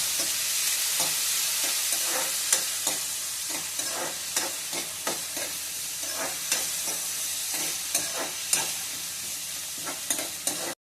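Onions sizzle steadily in a hot pan while a spoon stirs and scrapes them in a regular rhythm. The close, even frying hiss carries repeated sharp scraping strokes and continues throughout, with no talking.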